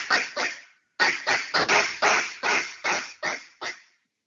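A duck call blown with short popping notes to imitate barking gives a loud, close series of about ten raspy, clipped quacks, with a brief pause after the first two and then a quicker rhythmic run, with no voices over it.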